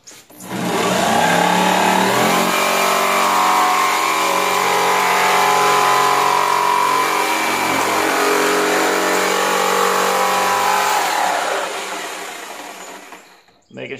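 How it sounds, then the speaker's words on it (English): A sharp-bladed electric jigsaw cuts steadily through material for a portable shop air conditioner build, running loud and close for about twelve seconds before winding down, with a brief click at the end. "I've got a jigsaw, and I checked and made sure the blade on it is sharp"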